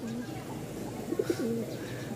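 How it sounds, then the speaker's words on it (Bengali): A soft pigeon coo, a few low rolling notes near the middle, over a steady background hum. "খুব সুন্দর একটা জোড়া, মানে আমার বেস্ট একটা কবুতর"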